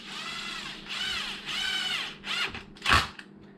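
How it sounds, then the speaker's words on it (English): Bolts threaded back into the rear differential cover of a Mojave truck, a series of close ratcheting, whirring tool bursts with rising creaky harmonics, ending in a louder sharp clunk. "And then we're going to go ahead and put bolts back in."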